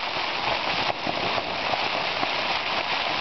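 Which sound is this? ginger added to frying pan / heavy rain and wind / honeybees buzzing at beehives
heavy rain and wind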